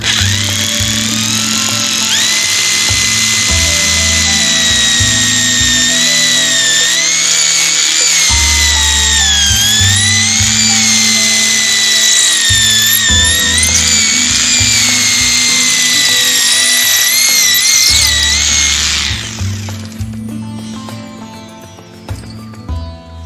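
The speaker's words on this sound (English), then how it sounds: "drill straight through into our substrate" A power drill whines loudly and continuously, its pitch wavering as it bores through stone cladding into the substrate behind, then winds down near the end.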